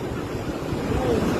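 Floodwater of the swollen Krishna river rushes past in a steady, loud broadband roar, with wind buffeting the microphone and no clear voices.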